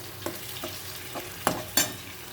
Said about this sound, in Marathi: आता ह्याला मस्त तेलामध्ये परत द्यायचे